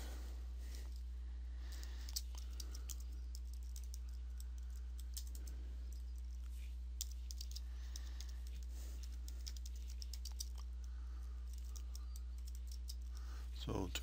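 Faint keystrokes on a computer keyboard while text is typed into an online assignment editor, irregular clicking runs scattered through the clip with soft talk at times.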